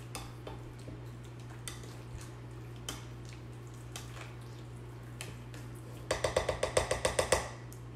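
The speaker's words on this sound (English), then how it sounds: "now we have fresh frozen lime juice that we will add to our guacamole. Let me stir that up." Frozen lime juice is stirred into guacamole in a bowl, with a quick run of about eight rhythmic scraping strokes near the end, after faint scattered clicks and taps in a quiet kitchen.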